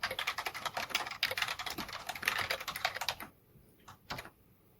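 Fast, clattering keystrokes on a computer keyboard as a line of Python code is entered, close and crisp, then typing stops abruptly with only a couple of isolated key taps after.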